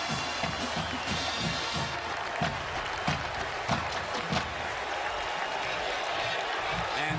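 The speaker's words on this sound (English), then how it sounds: "the crowd welcomes him back" A football stadium crowd applauds a returning player at a 2000 Purdue vs Ohio State game, a broad wash of clapping and crowd noise heard distantly beneath a commentator's voice.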